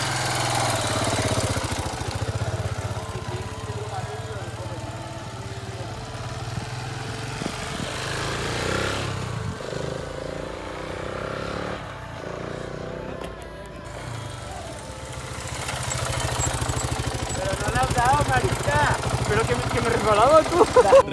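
A KTM SMC R 690 single-cylinder motorcycle idles steadily nearby with a low, even thrum that swells louder toward the end, while people talk over it.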